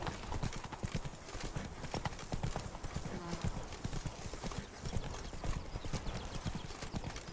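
Geralt's horse Roach trotting in The Witcher 3, with steady rhythmic hoofbeats close by and a clip-clop pattern running the whole time over faint ambient sound.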